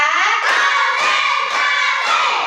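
A classroom of children claps together in a counting routine, several loud unison claps at a steady beat with chanting voices over them.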